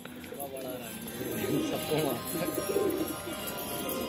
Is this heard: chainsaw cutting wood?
no